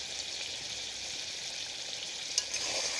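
Chicken gizzard and liver fry in a pan while being stirred, a soft, even sizzle with faint scraping and one brief clink near the end, no voices.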